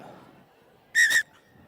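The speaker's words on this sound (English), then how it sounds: "As we hear the final hooter." Final hooter sounds at an under-14 schools rugby tournament match, one loud, fairly short blast of about a quarter second lying close over a quiet field-side murmur.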